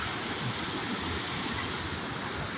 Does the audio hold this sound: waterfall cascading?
yes